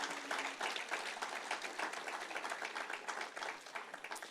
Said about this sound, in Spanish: Vamos, aplaudan al Señor por su amor.